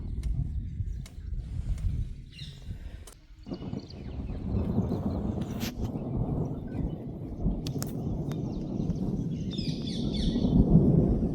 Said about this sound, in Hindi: बहुत ज़्यादा बिजली कड़क रही है और लग रहा है कि काफ़ी तेज़ बारिश होगी